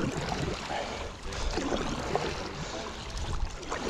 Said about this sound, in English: so far, this board is paddling pretty well